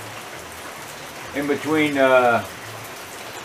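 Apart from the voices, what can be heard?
rain falling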